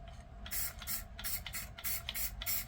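Quiet bursts of spray hiss out in short repeated pulses, about six in a row, each lasting under half a second.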